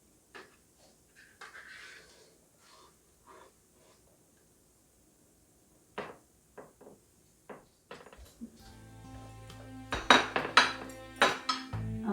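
Knife slicing a rolled omelette made with seaweed fulvescens and chicken breast on a board: sparse soft taps at first, then a busier run of clinks and knocks toward the end, close by.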